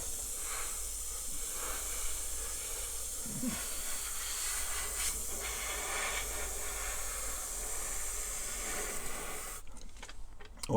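Compressed air from a spray gun hisses steadily while paint goes on a pop bottle charger in light, even passes, with brief pauses and a clatter of handling noise near the end.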